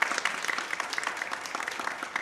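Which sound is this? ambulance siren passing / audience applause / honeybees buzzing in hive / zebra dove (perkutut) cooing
audience applause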